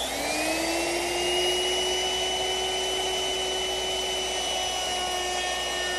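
Handheld woodworking router fitted with a 1/4 inch round-over bit easing the edges of wooden rocking horse parts, a steady loud high whine that holds throughout without pause or talk.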